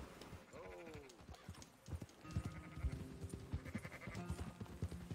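Sheep bleat nearby in Cornwall, a couple of wavering calls mixed with hoof clatter and shuffling movement.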